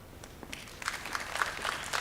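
Faint, scattered audience applause at a Kenyan forum on electoral preparedness ahead of the 2022 elections, building slightly over two seconds with distant, uneven claps.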